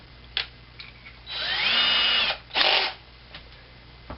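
A handheld drill with a 5.5 mm bit enlarges a hole in a Kalamazoo guitar amp cabinet, giving a close, whining burst of about a second, then a shorter second burst, with brief ticks between.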